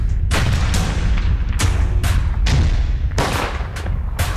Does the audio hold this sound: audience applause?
no